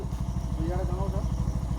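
A motorcycle idles close by on an abandoned road with a steady, even puttering throb. Voices talk over it.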